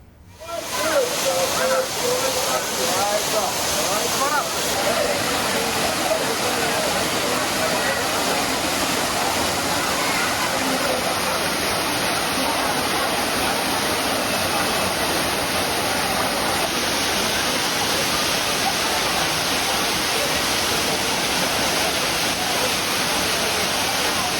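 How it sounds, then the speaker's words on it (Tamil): Heavy monsoon-season flow at Courtallam's Five Falls in Tenkasi, in the Western Ghats, makes a loud, unbroken roar of crashing water that fills the whole scene from start to end. "குற்றாலத்தில் சீசன் தொடங்கியதால் அருவிகளில் நீர்வரத்து அதிகரித்துள்ளது."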